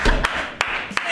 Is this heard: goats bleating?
no